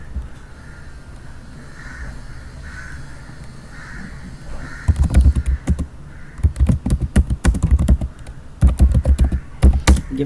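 Rapid, close keyboard typing starts partway through and continues in dense clattering bursts, while a crow caws faintly in the background over a low steady hum.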